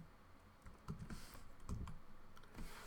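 Keys on a computer keyboard are pressed for a Control C copy shortcut, a few faint separate clicks and taps in a quiet room.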